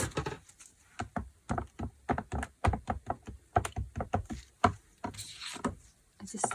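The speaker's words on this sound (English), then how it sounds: "I'm just going to tear a couple of sheets for each of these" Several sheets of paper, thick sketch or drawing paper and plain copy paper, are torn one after another, giving a rapid run of sharp close ripping and crackling bursts with no talk.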